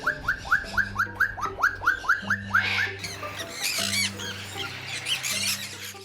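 Eclectus parrots (Eclectus roratus, green male and red female) and green-cheeked conures kept as pets give a quick series of repeated rising chirps, then harsher squawks over a low, steady background hum.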